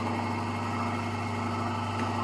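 Induction motor running steadily at about 1496 RPM after a direct-on-line start, giving a continuous loud hum with a strong low tone and steady vibration and no pauses.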